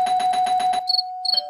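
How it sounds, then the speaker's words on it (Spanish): A doorbell rings in the Roblox game Brookhaven: a steady electronic chime, followed by two short higher dings, loud and clean with no one talking. "El chiste es que tocar el timbre sin que me vean"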